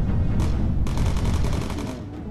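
Rapid bursts of gunfire in the World War II bomber game Bomber Crew, loud and dense, a sharp crackling volley that cuts in and rattles on for about two seconds before thinning out.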